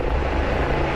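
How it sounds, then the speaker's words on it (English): A police helicopter flies overhead, a loud, steady, dense rotor and engine roar with no break. "The police chopper has been called in again."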